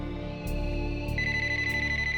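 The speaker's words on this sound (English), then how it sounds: "a late-night call arouses her suspicions" A telephone rings during a late-night call, with repeated electronic ring tones over a steady, loud background of music or room sound, lasting a couple of seconds.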